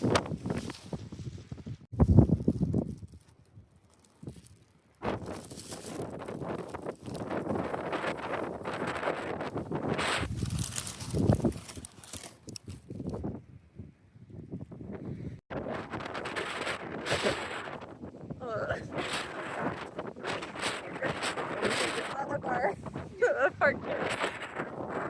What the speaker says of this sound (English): So windy. We're camped on a very exposed ridgeline.